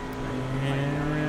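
Race car engine in the iRacing simulator, a Pickup Cup truck, droning steadily and loud with a sustained tonal whine through a brief downshift, with a voice faintly underneath.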